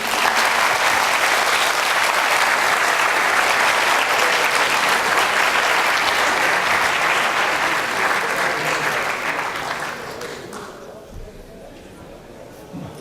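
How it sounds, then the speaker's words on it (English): Conference attendees at an agile software event applaud a speaker with sustained, full clapping for around ten seconds before it thins and fades into a quieter room with a faint voice. "Once again, round of applause for Mr. Petri Heiramo."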